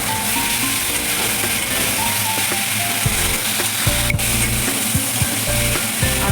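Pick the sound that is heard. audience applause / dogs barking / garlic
garlic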